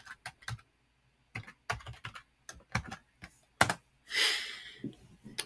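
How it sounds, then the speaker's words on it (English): Password keystrokes on a computer keyboard beside a Eurotherm controller setup, scattered sharp key taps in irregular clusters, close and clear, followed by a brief rustling burst. "And I'm going to enter my password."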